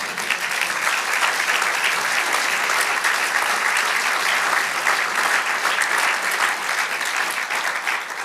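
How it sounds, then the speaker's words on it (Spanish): A church congregation applauds steadily and loudly in praise during a Spanish-language sermon, the clapping dense and unbroken throughout, with no talk over it. "Denle aplauso al Señor."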